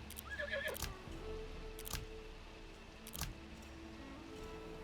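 A horse in the strategy game ARA: History Untold gives a faint, brief whinny early on, followed by soft, sparse clicks and thuds against a quiet background.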